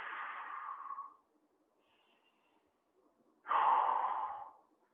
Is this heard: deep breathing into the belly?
yes